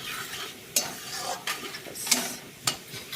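Onions fry in a pan as turmeric is stirred in, giving soft sizzling with a few sharp spoon clinks against the pan, close and alone.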